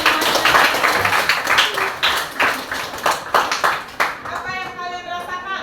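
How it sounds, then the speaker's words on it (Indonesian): A group of teachers or students claps together in a classroom session, bursts of hand claps, loud and close, fading into a few scattered final claps and a ringing tone. "Mari tepuk tangan semuanya."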